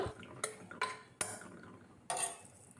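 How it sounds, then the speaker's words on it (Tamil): Snake gourd kootu stirred in a pot, with a few distinct clinks and scrapes of a spoon against the vessel, four sharp knocks spaced irregularly over quiet gaps. "இப்போ இது எல்லாத்தையும் நல்லா கலந்து விடலாம்"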